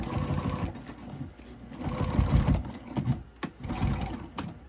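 A sewing machine stitches a crossbody bag, running in close, loud mechanical bursts with brief pauses and a clunk as it backstitches over the starting point.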